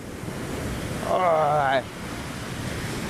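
Ocean waves washing onto a sandy beach at Sai Kaeo Beach in Phuket, a steady windy surf roar with a voice briefly heard over it midway.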